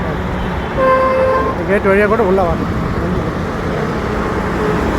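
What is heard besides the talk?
heavy traffic on a national highway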